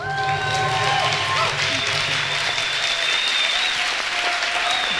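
A conference audience at Anarchapulco 2018 applauds the arrival of Liberland president Vit Jedlicka, with dense, sustained clapping and scattered cheers filling the room at a steady, loud level throughout.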